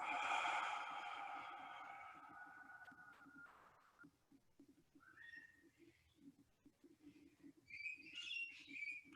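Birds outside a window, heard from indoors: a sustained whistling, tonal call at first, then after a quiet gap, scattered faint chirps and tweets that come and go at a distance over a low background hum.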